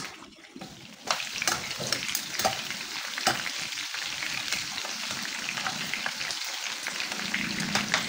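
Food fries in a hot pan on its way to golden brown, a steady, close sizzle with bubbling crackle that jumps up after a quiet start and stays even throughout, with no talking.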